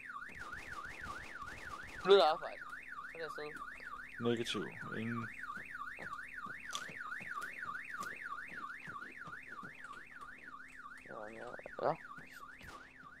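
A wailing, rapidly cycling car alarm sounds inside the video game Arma 3, steady and continuous throughout, while players talk in Danish over it now and then.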